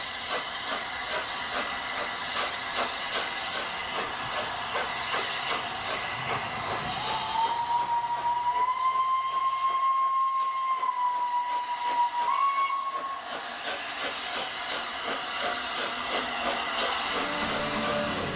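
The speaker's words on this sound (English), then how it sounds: "we're going to start our parade of top 10 steam locomotives with BR number 60103, Flying Scotsman." Flying Scotsman, BR number 60103 steam locomotive, with a constant loud hiss of escaping steam and a long sustained whistle blast in the middle, heard alone without talk.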